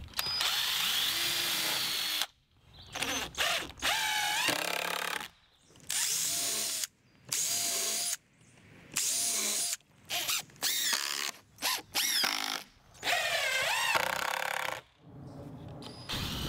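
A power drill with a 1/8 inch bit whirs in repeated bursts, pre-drilling into the wooden sides of a planter box, separated by short silent pauses; close and loud.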